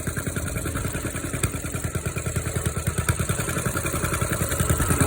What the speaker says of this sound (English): Let it idle for a few more seconds.